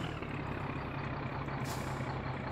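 Truck engine running in My Summer Car, with a steady, dense diesel rumble throughout and a brief hiss of the air brake partway through.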